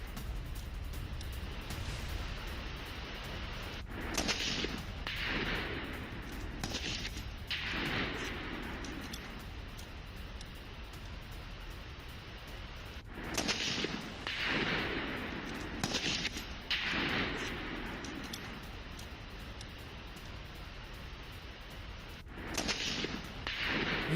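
Weapons fired during training near the Line of Control, a run of sharp gunshot cracks in uneven bursts with echoing tails over a constant background hiss, moderately loud.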